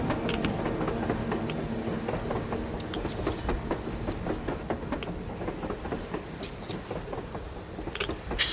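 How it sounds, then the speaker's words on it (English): A train rumbles past in the video game Metro Exodus, a steady clattering roll with scattered metallic clicks and knocks carrying on throughout, loud and continuous, with no voices over it. "A train! A damn train on the surface!"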